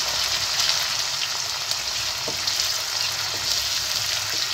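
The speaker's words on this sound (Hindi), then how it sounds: "हम ये प्याज थोड़ी सी हल्की गुलाबी कर लेंगे" Onions frying in a pan until lightly pink give a steady, close, dense sizzle with faint occasional crackles, unbroken and with no voices.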